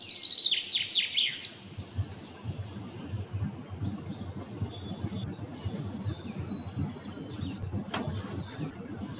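Birds chirp and call at dawn, a bright burst of twittering near the start, then scattered calls over a steady low outdoor rumble.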